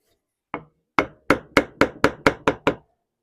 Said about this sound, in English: break that dowel out. So I'm going to use a very fine chisel. It's actually curved.